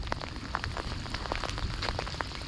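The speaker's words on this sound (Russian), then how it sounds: "А дождь идет, не переставая" Steady rain falls on a lakeshore during a fishing trip in a thunderstorm, a dense continuous patter of drops striking surfaces nearby, unbroken and even throughout with no voices.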